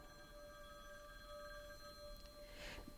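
A telephone rings in a tense action-movie scene, its steady electronic tones sustained throughout at moderate level over a low background hum, with a brighter burst near the end.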